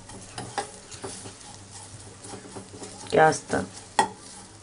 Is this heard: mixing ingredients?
yes